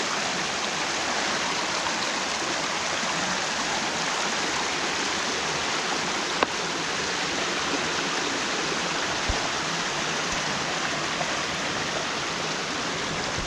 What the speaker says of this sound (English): And this, amongst all other streams, all goes down to the Garden Route Dam.